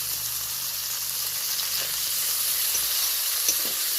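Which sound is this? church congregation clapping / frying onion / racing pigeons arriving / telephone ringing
frying onion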